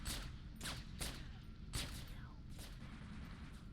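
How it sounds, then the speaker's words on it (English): Halo 3 gunfire on Legendary, a string of sharp, light popping shots that sound like paintball guns, fired in quick irregular bursts with short gaps, fairly close and moderately loud. "It sounds like we're shooting little paintball guns at them"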